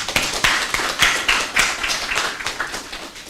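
A modest group applauds at a national climate outlook forum, with separate claps from a few people in an irregular pattern, moderately near and continuing evenly throughout.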